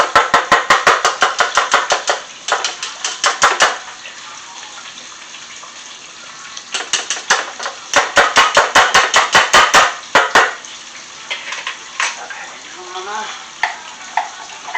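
A wire whisk beats mashed potatoes in a bowl, making rapid, close, rhythmic scraping and clacking strokes in several bursts separated by short pauses, with faint sounds near the end.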